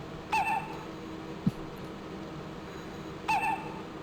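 A train horn in the game Train Simulator 2022, on a Salzburg to Rosenheim route, gives two short hooting, owl-like calls a few seconds apart, clear over a quiet cab hum with a brief click between.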